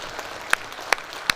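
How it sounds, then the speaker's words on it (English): A few sharp, separate claps from a technical session audience, three distinct hand strikes spaced about evenly over a soft room background, with no talk. "A round of applause for all the discussants."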